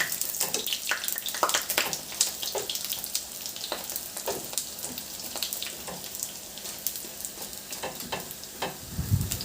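Banana turon frying in hot oil in a pan as it is flipped, with a steady close sizzle and crackle, scattered sharp pops and spatters, and a few soft clinks of a utensil against the pan.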